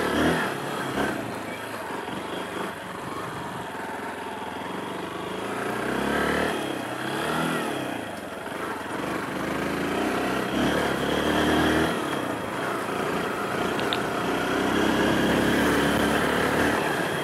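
A Honda Bros 160 motorcycle rides along with a steady engine drone that swells and eases with throttle, mixed with wind rush and road noise, loud and close throughout.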